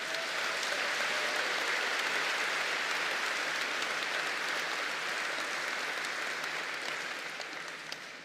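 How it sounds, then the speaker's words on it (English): A tennis tournament crowd at a centre court in Shrewsbury claps steadily for several seconds, a dense wash of applause that slowly fades toward the end. "But a big round of applause for our ball crew."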